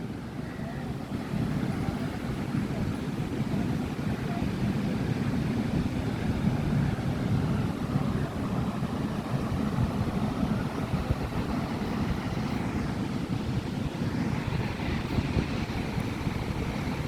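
Sea waves at Gokarna beach wash in a continuous low, rumbling surge, mixed with wind buffeting, steady and moderately loud throughout.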